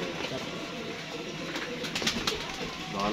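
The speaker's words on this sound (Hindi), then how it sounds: "दाना पानी कबूतरों को कर रहे हैं" Pigeons coo softly while being given grain and water at night, with scattered wing flutters and movement mixed into steady low background noise over a short stretch.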